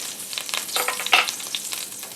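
Cold butter sizzles and crackles in a cast iron pan that has just seared steak, a close, bright hiss with small irregular pops and spits, and no talking.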